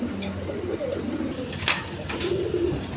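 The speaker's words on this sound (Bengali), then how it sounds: "এখানে এক পেয়ার বাচ্চা সহ দুইটা কবুতর আছে" Pigeons cooing in low repeated throaty calls at a close distance, a pair with chicks among other birds at a pigeon exhibition, with background chatter.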